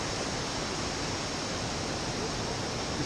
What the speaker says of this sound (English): You can see this waterfall behind us.